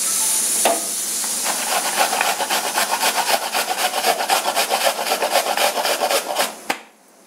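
An apple being grated by hand on a kitchen grater, with steady rhythmic rasping strokes repeating close up for several seconds before stopping.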